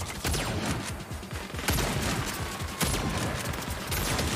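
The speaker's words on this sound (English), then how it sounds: "They're just shooting me" Rapid video-game gunfire in sharp repeated bursts, some shots spaced apart and others clustered into dense volleys, loud and close with no talk.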